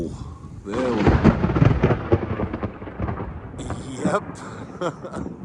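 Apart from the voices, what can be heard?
thunder during a Central Florida summer thunderstorm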